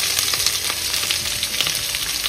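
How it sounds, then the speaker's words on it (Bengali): Onions and chopped vegetables fry in a hot pan for a flat-rice poha breakfast, giving a loud, dense, continuous sizzle with small crackles throughout. "দিয়ে দিচ্ছি ধীরে ধীরে পেঁয়াজ আর কেটে রাখা সমস্ত সবজিগুলো"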